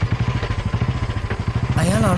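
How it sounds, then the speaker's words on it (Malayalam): A Royal Enfield Bullet motorcycle engine thumps in a steady, rapid low pulse throughout, fairly close and loud, with a rising whine and other sound layered over it near the end. "സാർ, ഇപ്പൊ ബുള്ളറ്റിന്റെ സൗണ്ട് കേട്ടു"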